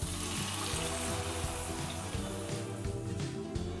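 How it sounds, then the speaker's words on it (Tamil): Tamarind water pours steadily into a pan of smelt fish curry, a continuous close liquid splash and trickle with no talk. "இந்த தண்ணியை வந்து இதில் சேர்த்துடலாம்."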